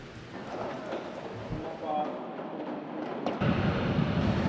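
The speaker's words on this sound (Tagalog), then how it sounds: "patuloy ang pagbuhos ng ulan at pag-ihip ng napakalakas na hangin dito sa may Batangas Port" Heavy rain pours steadily at Batangas Port while strong wind roars in a dense, unbroken wash that swells louder toward the end, with a reporter talking over it.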